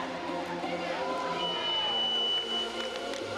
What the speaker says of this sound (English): the buzzer goes for the second technical timeout of the third set